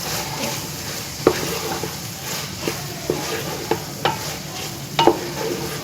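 A spoon stirs mixed vegetable sabzi with fresh coriander in a pan: a soft ongoing sizzle with regular scraping strokes about once a second, close and clear, no voices.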